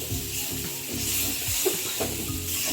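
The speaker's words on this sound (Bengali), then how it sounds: "এবারে এটাকে আমি টমেটোটা যতক্ষণ না নরম হচ্ছে ততক্ষণ আমি কষে নেব" Tomatoes with chilli sautéing in a hot pan for paneer ghugni, a steady close sizzle with soft stirring scrapes and no talk.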